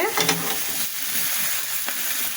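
Tilapia fish frying in oil in a pan, a soft continuous sizzle and hiss with a few brief crackles and light stirring, close and moderately loud.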